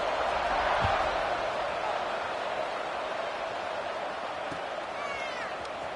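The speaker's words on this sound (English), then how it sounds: "this crowd is buzzing after that last score" In the college football video game NCAA 26, a stadium crowd keeps up a steady, even roar, a continuous wash of cheering noise with a few faint thuds beneath it.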